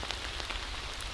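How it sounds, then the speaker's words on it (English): Steady rain falls on surfaces on a rainy day in Wissahickon Valley Park, Philadelphia, an even close hiss of dense drops with no voices. "Oh, it is definitely raining, and I am so glad that I brought an umbrella."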